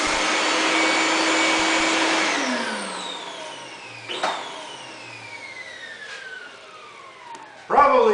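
A big shop vac runs loudly, then is switched off and its whine slides down as the motor winds down, with a couple of clunks and a brief burst of noise at the end.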